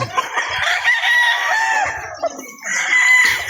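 Roosters crow repeatedly at a gamefowl farm, long drawn-out calls overlapping with clucking hens, close and loud with no talk.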